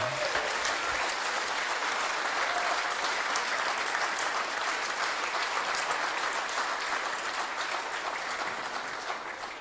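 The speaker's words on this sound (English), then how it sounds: "Can we please have another big round of applause for them?" Sustained audience applause fills the room at a formal event honoring guests, a dense steady clatter of many hands clapping at near-constant loudness that tapers slightly at the end.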